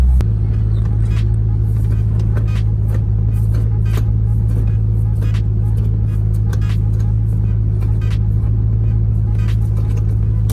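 A C5 Corvette track car drives along with a steady, loud low engine drone and road rumble, heard from inside, with faint ticks and knocks over the constant hum.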